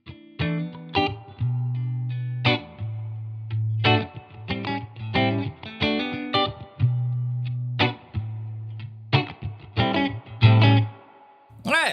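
A Fidelity Guitar Stella Rosa Lite 2 electric guitar played through a 1968 custom Fender Pro Reverb amp: picked notes and chords with low sustained bass notes, in short phrases separated by brief gaps, loud and close.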